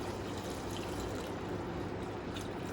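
Hot broth poured into mixed rice for Punjabi chicken yakhni pulao, a steady soft liquid trickle and pour running continuously at low level with no talk.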